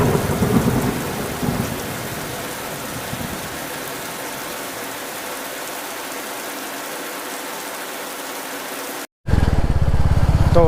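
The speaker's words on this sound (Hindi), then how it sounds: "लेकिन अभी बारिश हो रही है यहाँ पे" Heavy rain pours steadily during a thunderstorm outside a motorcycle service center, a dense close hiss with low rumbling at first, briefly cutting out near the end before resuming.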